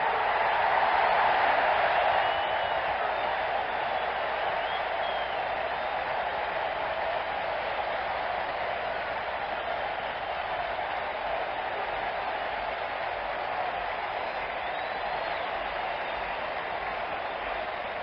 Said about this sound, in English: Boy, that exploded this crowd.